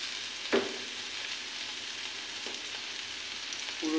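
Kochur loti (taro stolons) fry in a pan with a steady, soft sizzle. A single stirring scrape comes early, and the frying grows slightly louder near the end.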